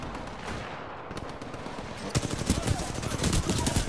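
Rapid gunfire from a player's gun in Titanfall, a dense automatic burst of shots that grows louder and busier in the second half, layered over game noise.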